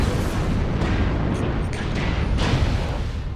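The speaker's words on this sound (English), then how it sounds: "I couldn't barely hear you because of all the explosions" Constant roar of explosions and artillery in a video game battle, dense and loud with no gaps, rumbling without a break for the full stretch.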